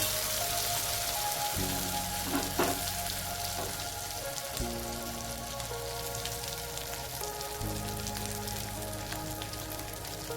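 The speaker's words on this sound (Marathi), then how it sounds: "एक दोन मिनिटे आपल्याला याला तेलात परतायचं आहे" Chakvat greens sautéing in hot oil, a dense continuous sizzle like rain on a surface, steady throughout with a low background hum shifting in pitch underneath.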